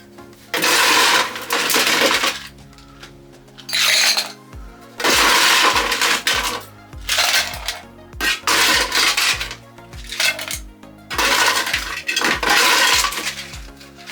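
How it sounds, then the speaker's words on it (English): Ice cubes clatter and rattle into a shaker holding a strawberry daiquiri with strawberry puree, in about five loud bursts of clinking and tumbling separated by short pauses, close up and with no talking. "Now we're going to be adding ice."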